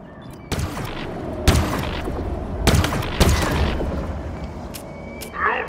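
Gunfire in the video game Halo Infinite: several sharp, loud shots and bursts ring out at irregular intervals over a rumbling battlefield background, with no speech.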